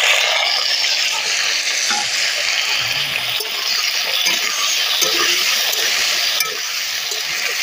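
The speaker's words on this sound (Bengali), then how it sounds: "এটা আমি লাল লাল করে ভাজবো" Wild yam pieces fry in hot oil with a loud, dense, continuous crackling sizzle close up, steady for the whole stretch with no voices.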